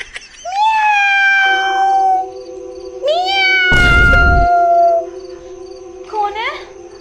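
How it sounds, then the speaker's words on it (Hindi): A cat meows loudly and close by in a rustic Hindi comedy film scene: three long, drawn-out meows a few seconds apart, with a short burst of noise during the second one. "बिल्ली आएगी यहाँ पे, म्याऊं म्याऊं कर रही है"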